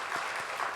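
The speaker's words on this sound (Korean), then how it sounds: "우리 감사하다고 박수 드리겠습니다." A Sunday church congregation claps together in a brief burst of steady, dense applause that fills the moment, with no voices standing out.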